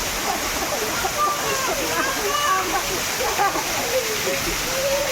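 Ice-cold stream water flows and splashes nearby, a continuous rushing burble heard under people talking.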